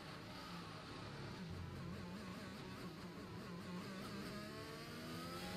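Engine of an F1 car in the F1 2021 game at the British Grand Prix, a steady loud buzzing drone with rising revs and overlapping cars, continuous throughout with no talk.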